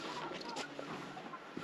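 Hens cluck softly on a farm, brief low calls coming at a distance under a faint background hum, with a few murmured voices nearby.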